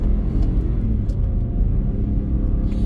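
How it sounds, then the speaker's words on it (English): A Ford F150 pickup accelerates at full throttle up a steep hill with some wheelspin, a loud, steady low engine rumble that holds throughout with faint scattered clatter and no talking. "So steep hill, put it to the floor, some spinning, but absolute straightforward acceleration"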